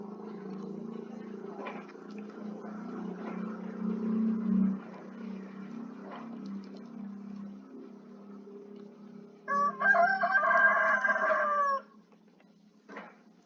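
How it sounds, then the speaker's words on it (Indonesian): A rooster crows once in the background of a room where someone is working at a computer, a harmonic call rising partway through and fading after a few seconds, louder than the low steady hum beneath it. "Abaikan suara koko ayam tadi ya."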